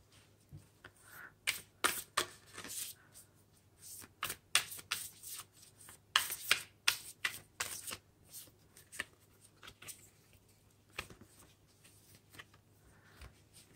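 A deck of oracle cards is shuffled by hand at a tarot reading, with irregular bursts of crisp riffling and flicking up close, some louder than others, and no talking.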